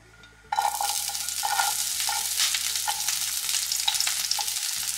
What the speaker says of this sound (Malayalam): കടുക് പൊട്ടി വരുമ്പോൾ ഇതിലേക്ക് അരിഞ്ഞു വെച്ച് ചെറിയ ഉള്ളി ഇട്ട് കൊടുക്കാം